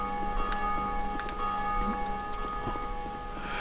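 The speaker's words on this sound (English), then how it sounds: "Got to always ring a bell." A bell rings in the video game Dark Souls II Scholar of the First Sin, its clear metallic strikes sounding a few times over a steady droning game ambience, with no talking.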